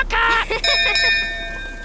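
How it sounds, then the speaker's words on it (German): A ship's bell rung aboard a cartoon boat, bright ringing strikes with long tonal overtones that fade away over a couple of seconds, heard close and alone. "Peppa, läute die Glocke!"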